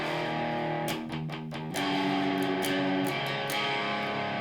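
Distorted electric guitar playing a rock riff with sustained, buzzy chords and a few picked accents, close and steady with no talking over it.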